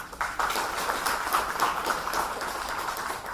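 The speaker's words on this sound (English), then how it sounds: "Big clap for Mr. Rajput sir." Sustained applause from an audience at an annual general body meeting in a hall, steady dense clapping from many hands at moderate loudness throughout, with no talk over it.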